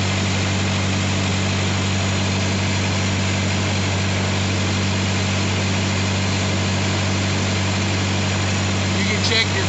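Steady, loud drone of a truck trailer's reefer refrigeration unit running and blowing cold air into the box, a constant engine-like hum with strong low tones, unbroken for the whole stretch.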